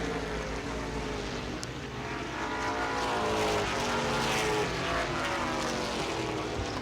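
Vintage Southern Ground Pounders race cars run the final laps of a race, a steady droning engine roar heard from a distance, with pitch sweeps as cars pass.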